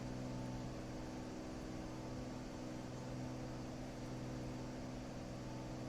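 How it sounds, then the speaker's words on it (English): Steady, loud cabin drone of a small turboprop plane in Microsoft Flight Simulator 2024, a constant engine hum and rumble with no voices. "Pretty loud inside, as I imagine a lot of turboprops are."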